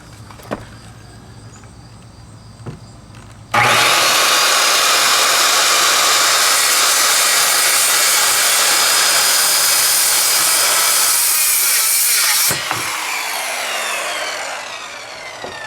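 A saw cuts about an inch and an eighth deep into a deck board while rotten decking is being replaced, a loud, steady, rasping roar lasting about nine seconds after a quiet start, then dropping to a lower hum.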